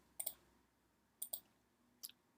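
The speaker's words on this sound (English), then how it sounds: "and you just need to double click." Computer mouse double-clicks while editing in Canva: three crisp, faint paired clicks spaced about a second apart in a quiet room.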